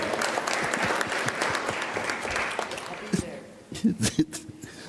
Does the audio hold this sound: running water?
no